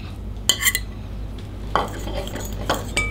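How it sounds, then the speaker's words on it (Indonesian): A spoon or whisk clatters against a bowl while a dry mix of wheat flour, cornstarch and baking soda is stirred, in short bursts of scraping clinks with quieter gaps between, close and fairly loud. "Kita aduk dulu, kita campur rata."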